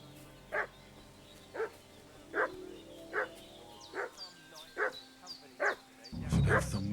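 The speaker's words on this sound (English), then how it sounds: "What's that dog making such a fuss about?" A dog in the video game Kingdom Come Deliverance 2 barks repeatedly at a steady pace, about one bark per second, loud and fairly close, with faint bird calls and an ambient bed beneath.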